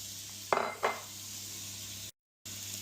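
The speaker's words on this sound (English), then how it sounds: "Right, now the red peppers go in." Red peppers tipped into a pan of frying red onions give two close, bright clattering bursts of vegetables hitting the hot pan, followed by a steady low sizzle.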